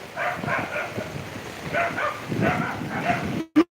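A dog barks several times in short bursts at a moderate distance, with a sharp sound cutting in at the very end.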